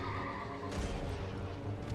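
A horse whinnies in the Elden Ring video game during a boss fight, a loud, rough neigh blended with dense battle noise and rumbling effects.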